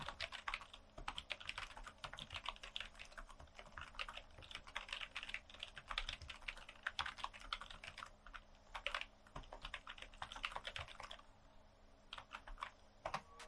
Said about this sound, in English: So here's a sound test to see if you like how it sounds.